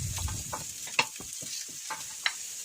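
Chunks of daikon radish fry in a wok of hot oil with ginger shreds over high heat, a steady close sizzle with a few sharp spatter pops and light stirring clicks, no voices.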